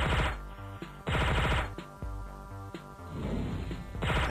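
Gunfire in the video game Divine Intervention, with loud, heavy shots hitting in rhythmic bursts over a pulsing game soundtrack, each blast sharp and close.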